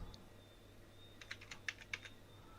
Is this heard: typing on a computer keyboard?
yes